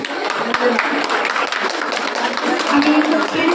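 An audience at the Utshaho Dan Utsav 2025 ceremony claps loudly, sharp hand claps crackling steadily throughout while a voice carries on over a sound system.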